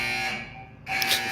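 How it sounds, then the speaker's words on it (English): A game-show wrong-answer buzzer sounds during a whisky quiz, a short loud tonal alarm-like blast that stops briefly and then returns, with no talking over it. "if you're hearing the buzzer, that's unfortunate because it means you got the same wrong answer"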